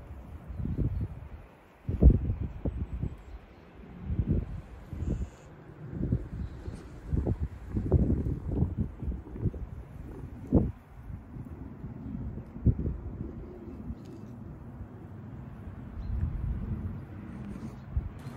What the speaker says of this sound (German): jetzt kann der Wind mich ruhig abkühlen.